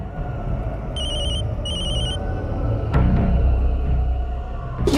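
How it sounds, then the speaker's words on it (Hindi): A mobile phone rings in two short repeated electronic bursts over a steady background rumble, with a couple of louder thumps later; no one speaks. "अरे कब से तेरा फोन बज रहा है?"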